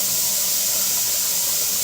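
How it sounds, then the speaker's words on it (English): Steam vents with a steady, loud, unbroken hiss from a pressure canner during home canning of pinto beans and ham, with no voices over it. "what you're trying to do is bring steam into this container, so therefore it pushes all the air out"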